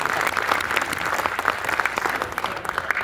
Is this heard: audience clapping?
yes